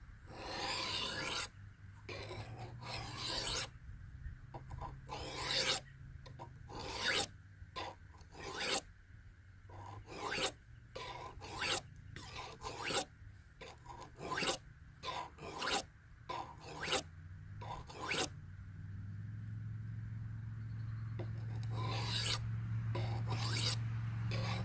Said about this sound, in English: Sharpening, you just have to get a feel for it.